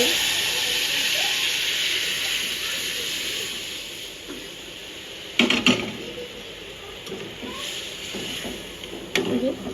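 Dal poured into hot oil tempered with cumin seeds gives a steady broad sizzle and steam hiss throughout, with a few louder clatters and splashes partway through as the pan is handled.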